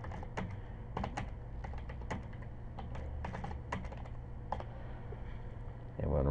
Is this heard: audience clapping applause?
no